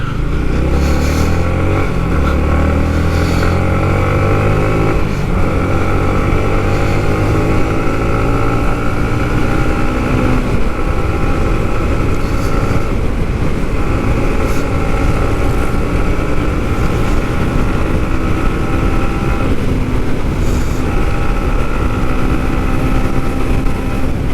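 A Yamaha MT15 motorcycle cruises on a highway with a loud, steady engine drone close by, whose pitch climbs through gear changes near the start, mixed with rushing wind noise.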